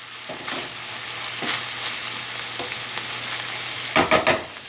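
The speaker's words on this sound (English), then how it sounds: "Okay, I've got the pork browned nicely. The garlic has softened up." Pork and garlic sizzle in a pan with a steady broadband hiss, broken by a few scraping stirs and a quick cluster of louder clatters near the end, close and with no talk.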